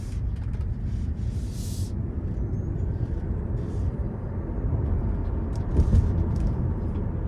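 A 2023 Tesla Model Y Performance cruising along, a steady low road and tyre rumble from inside the cabin with faint wind noise, constant and without talking.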